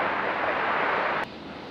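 An Airbus A350 landing at Brisbane airport gives a brief, steady broadband roar at moderate distance that drops sharply partway through.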